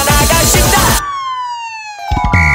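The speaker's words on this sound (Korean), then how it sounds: "삐용삐용 삐삐뿅 삐용삐삐뿅 삐삐뿅 삐삐뿅 경찰차 나가신다" A cartoon-style police car siren in a children's song, a sustained falling two-tone wail after a musical intro, loud and close.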